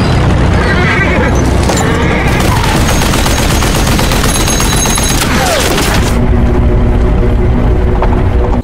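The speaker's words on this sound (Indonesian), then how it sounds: "Atami pun langsung mengejar si kakek tua dan menembaknya dengan tank baja" Tank cannon fire and explosions in a war film about an old man fighting Nazi troops, with heavy booms and rolling blasts filling the scene almost continuously, loud and close.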